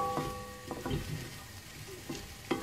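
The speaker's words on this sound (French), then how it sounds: "On les laisse dorer tout doucement et absorber le sucre de cuisson de l'aubergine et des courgettes" Garlic, onion and bell pepper sizzle in olive oil in a pan alongside eggplant and zucchini for ratatouille, with a soft steady frying hiss and several clinks and scrapes of stirring.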